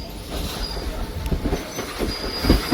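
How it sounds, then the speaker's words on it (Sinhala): The Udaya Devi Express rolls into Kekirawa railway station, wheels clacking and squealing faintly on the rails with low rumbling, heard close by from aboard the train. "උදෑසන 11:05 වෙනකොට කැකිරාව දුම්රිය ස්ථානයට ළඟා වෙනවා."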